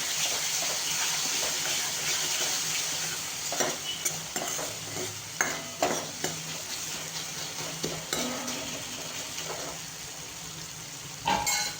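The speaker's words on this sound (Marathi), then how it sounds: "त्यानंतर हळद हे थोडंसं परतवून घेऊ" Turmeric is sautéed in hot oil for a tempered dal with tomato, giving a steady close sizzle and frying hiss with scattered clinks and scrapes as a spoon stirs the pan.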